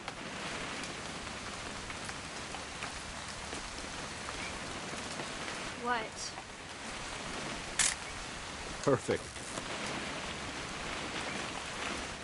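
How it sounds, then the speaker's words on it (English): Steady rainfall in the video game What Remains of Edith Finch, an even hiss running throughout with a few sharp clicks and brief spoken words over it. "It's gonna rain the whole weekend, isn't it?"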